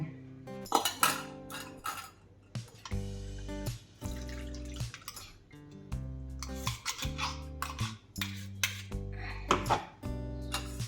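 A spoon presses and scrapes date-tamarind chutney through a metal strainer, making intermittent clinks and scrapes close by, with a sustained tonal hum beneath and no talking.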